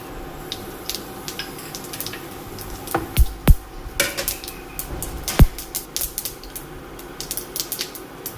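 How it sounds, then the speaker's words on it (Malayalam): Mustard seeds pop in a little hot coconut oil in a pan, with scattered sharp crackles and clicks, a few louder snaps among lighter ticks over a quiet background. "കടുക് പൊട്ടിയതിലേക്ക് പച്ചമുളക് ചേർക്കാം."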